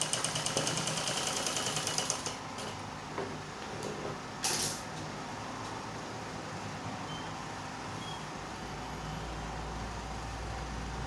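Sewing machine stitching the seam of a kimono dress, a steady mechanical whir running continuously throughout, with louder rattling bursts near the start.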